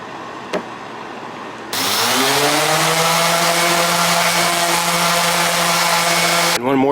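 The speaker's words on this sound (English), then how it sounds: "I'm sanding the feet that go on the bottom of the coffee table and the handles down to raw wood" After a quiet start with a faint tap, a power sander starts up and whines steadily for about five seconds, sanding wooden coffee table feet and handles down to raw wood, loud and close, then cuts out.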